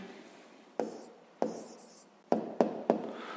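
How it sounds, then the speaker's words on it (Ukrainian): A pen writing down an answer to a fifth-grade maths exercise: sparse, close taps and short scratchy strokes, with a few pauses and then a quick cluster of marks near the end, quiet and alone. "Записуємо відповідь."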